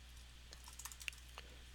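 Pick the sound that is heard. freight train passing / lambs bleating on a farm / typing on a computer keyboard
typing on a computer keyboard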